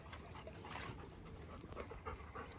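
A dog panting steadily beneath something close by, a soft rhythmic breathing that persists throughout with a few faint whimper-like tones mixed in.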